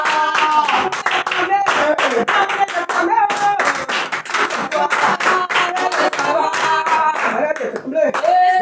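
A church congregation at a praise and worship service in Paris claps in steady rhythmic unison, loud and close, while singing voices and music carry on over the beat throughout.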